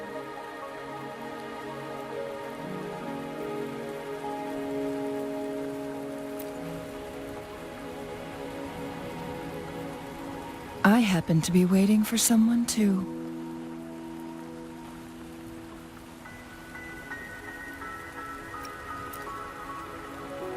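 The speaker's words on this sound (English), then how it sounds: "Are you trapped here by the rain?" Steady rain pattering in the video game Wuthering Waves, a soft continuous hiss under sustained musical tones and a spoken line, with a brief sharper burst partway through.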